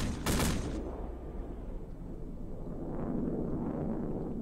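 Gunfire in the military game Arma: Armed Assault, a loud burst of shots right at the start and then a continuing rumble of distant firing and battle noise to the end, with no talk.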